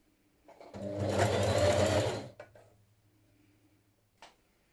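A sewing machine runs a single steady burst of stitching along a narrow hem on a wrap dress flounce, loud and close, then stops, followed by faint handling clicks.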